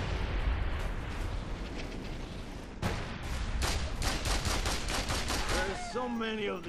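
Gunfire rings out in the video game Mercenaries 2, with rapid bursts of sharp shots growing denser midway, then a few whistling tones and crackles near the end over a rumbling background.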